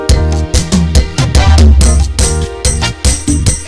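Korg PA-600 arranger keyboard playing a rhythm style on variation 4: a full backing pattern of drums, bass and chords in a steady beat, loud and close, with no voices.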